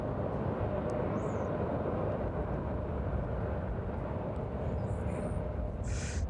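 A jet departing East Midlands Airport in the evening, a broad continuous engine roar, loud and steady as it climbs away, with no talk over it.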